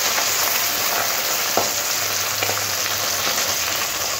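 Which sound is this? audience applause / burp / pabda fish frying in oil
pabda fish frying in oil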